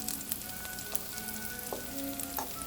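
Onions frying in a pan with potatoes just lifted out, a soft, steady sizzle and crackle with scattered faint pops, quiet and close, with no talk.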